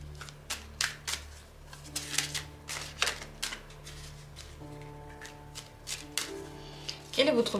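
Lenormand cards are shuffled and dealt for a reading, giving a run of close, crisp riffling and snapping bursts that stop and start over a steady low hum, with a louder flurry at the end.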